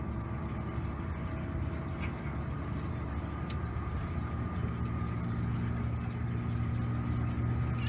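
Steady road traffic noise near a toll road exit at Muara Fajar, Rumbai, Pekanbaru, with a continuous low engine rumble and tire hiss from a passing car, fairly loud and unbroken, no talk.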